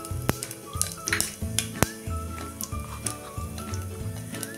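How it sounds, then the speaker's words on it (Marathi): Fenugreek seeds and mustard seeds frying in hot oil in a pan, a steady crackling sizzle with frequent sharp pops and spits close by, continuous throughout. "त्यात आता टाकूया हे 1 चमचा मेथी दाणे, मेथी थोडा वेळ तळून घ्या।"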